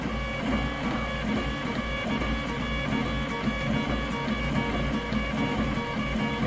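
A Robin 3D printer running at full speed, its stepper motors whining and buzzing continuously as the print head moves in rapid, jittery bursts, steady and moderately quiet throughout with no talking.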